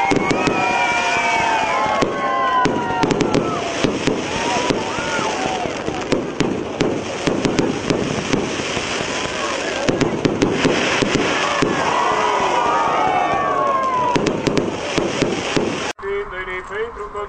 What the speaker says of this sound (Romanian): evenimentul s-a încheiat cu un grandios foc de artificii